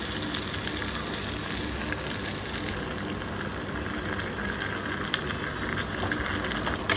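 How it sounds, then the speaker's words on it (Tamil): Ground tomato hits hot oil with brinjal in a pan, raising a dense, even, rain-like sizzle that stays loud and unbroken for the whole stretch, with no voices. "இப்போ வந்துட்டு தக்காளி அரைச்சி வச்சுருந்தோம் இல்லையா, அரைச்ச தக்காளியை ஊற்றிக்கலாம்"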